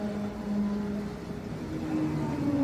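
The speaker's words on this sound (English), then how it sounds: "That sound you can hear in the background is the dyno" A car dyno runs during scrutineering at the Snetterton race circuit, heard as a faint, steady engine drone with a few shifting tonal hums in the background. There is no talk over it.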